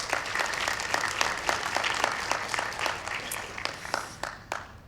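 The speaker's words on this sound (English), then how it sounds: "Another round of applause, that was amazing." A room full of people at a school board meeting claps in a dense, steady round of applause that carries on strongly, then thins and fades toward the end.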